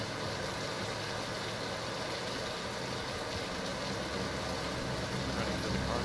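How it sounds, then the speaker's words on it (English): A car engine idles in the battle-royale game PUBG, a constant mid-level rumble with broadband road-like noise holding steady throughout, heard alone without talk. "Gosh, should I hear the car?"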